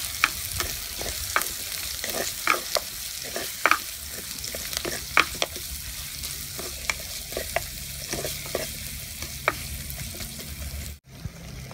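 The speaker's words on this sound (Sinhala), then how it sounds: "ලුණු සුදු ලුණු ටික තන්නම් පැහැදෙනවා බඩ ගන්න." Onions and garlic frying with curry leaves in hot oil, a continuous sizzle broken by frequent spoon stirs and scrapes, close and steady.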